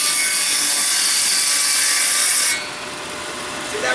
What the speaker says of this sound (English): If your saw blade's right, you see how easy that cut is.